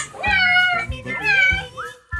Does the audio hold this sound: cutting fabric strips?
no